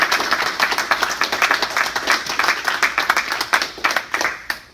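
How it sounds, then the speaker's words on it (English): An audience at a historical board gaming event gives a round of dense, steady applause with many hands clapping at once, loud and sustained for several seconds before thinning out at the end. "Let's get a big round of applause, okay, for historical board gaming."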